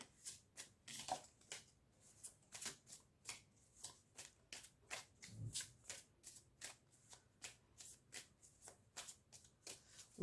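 Star Spinner Tarot cards being shuffled by hand, a quick even run of soft riffling flicks repeating for several seconds, close and quiet with no voice.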